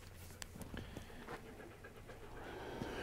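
A hunting dog on a dove hunt pants close by in quick, rhythmic breaths, with light rustling and faint outdoor background noise.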